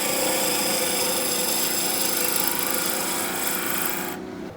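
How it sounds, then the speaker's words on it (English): A skew chisel shaving wood on a spinning lathe while turning a tapered garden dibber, with a continuous loud, rasping cut and steady motor hum that fades and drops away near the end. "used the skew to cut the taper of the dibber"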